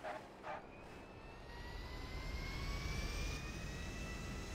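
In the video game GTA 5, an aircraft jet engine whines with a rising tone while landing, the roar swelling steadily after two brief thumps at the start, moderately quiet and without talk.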